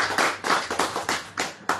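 A few sharp, close hand claps in an irregular rhythm, about seven distinct slaps from a small group, with nothing else alongside them.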